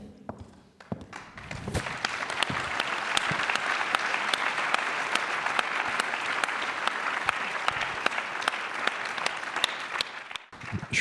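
A conference audience gives long, even applause for a sculpture talk, loud and sustained for about ten seconds before it tapers off.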